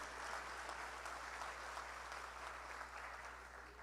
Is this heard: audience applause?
yes